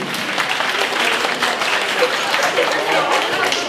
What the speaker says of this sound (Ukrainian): Шановні батьки, активно, активно аплодуємо.